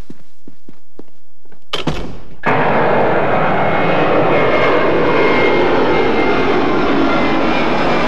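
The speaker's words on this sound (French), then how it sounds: "L'avion provenant de l'aéroport international Bagdad vient de se poser." A passenger airplane arriving from Baghdad International Airport has just landed. A few faint knocks and a thud come first, then a loud, steady jet engine roar fills the rest.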